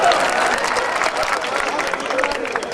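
A poetry-event audience claps in honour of two poets: continuous, moderately loud applause from a crowd, steady throughout with a few voices mixed in.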